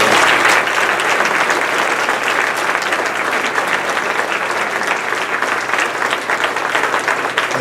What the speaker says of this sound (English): Can we give them all a nice round of applause?